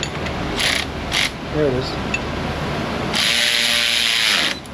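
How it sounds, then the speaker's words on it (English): A ratchet wrench turns a ball joint bolt under a Corvette during an engine reseal, giving short bursts of ratcheting followed by a longer steady run of clicks, with a voice speaking briefly. "we can turn it from the bottom and put a wrench on the top"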